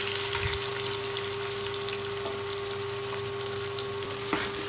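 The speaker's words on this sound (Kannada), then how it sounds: "ಈರುಳ್ಳಿನ ತುಪ್ಪ ಮತ್ತು ಎಣ್ಣೆಲೆ ಗೋಲ್ಡನ್ ಬ್ರೌನ್ ಆಗೋವರೆಗೂ ನೀಟಾಗಿ ಫ್ರೈ ಮಾಡ್ಕೊಳ್ಳಿ" Chopped onions fry in hot ghee and oil for egg biryani, giving a steady, close, even sizzle that holds unbroken throughout with no voices.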